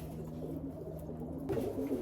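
Roller pigeons in a loft give low, soft cooing that hums steadily under a faint background, with a brief rustle near the end.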